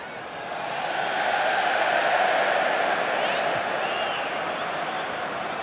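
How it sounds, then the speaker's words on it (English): A large football crowd at a West Ham match gives a sustained, swelling cheer that rises after the first half-second and holds steady as a dense, distant roar. "West Ham crowd and David Moyes ironically giving a bit of a cheer for this referee's assistant on this side"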